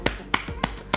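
Four sharp hand claps in a loose, evenly spaced rhythm, close and crisp, with short silences between them and no talk.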